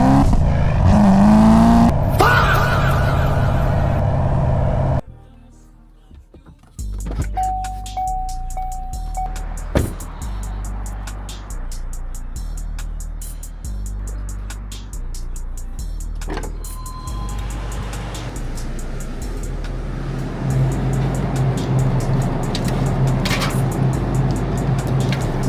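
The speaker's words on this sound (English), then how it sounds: "this is the last time you guys are gonna hear this car on headers, X-pipe, and tune only" A manual Chevrolet Corvette C7 Z06 running headers, an X-pipe and a tune on a late-night drive: a deep, loud exhaust rumble throughout, with a sharp drop in level partway through, then rising revs and a brief electric whine.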